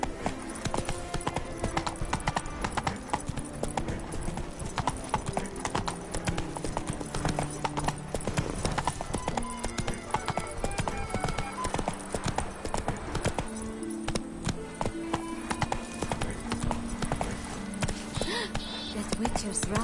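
Roach, a horse in The Witcher 3, trots steadily with rhythmic clip-clopping hooves throughout, layered over game music and ambience, with a voice talking at times.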